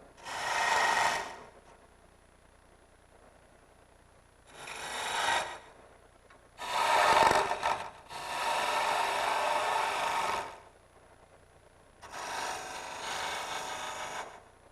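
Hand sanding of a wooden beer tap handle in five separate bursts of abrasive rubbing, each lasting one to three seconds, with short quiet pauses between strokes.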